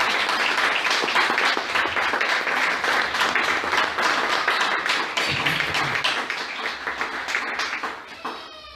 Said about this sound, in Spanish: Dale una ofrenda de palmas al que vive y reina por todos los siglos.